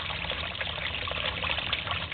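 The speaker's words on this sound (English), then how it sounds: "Now you can see the water flowing in" Water pours steadily into a basement sump pit fed by drain tile, a continuous close gushing trickle with no voices over it.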